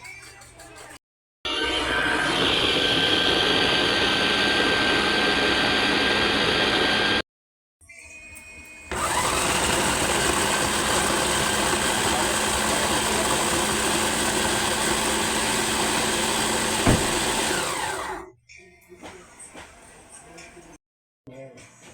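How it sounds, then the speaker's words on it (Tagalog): An electric grinder whirs as it pulverises siling labuyo chilies, running in two sustained bursts of loud, even motor drone separated by a brief pause, then cutting out. "Mag-grind ko na tong siling labuyo."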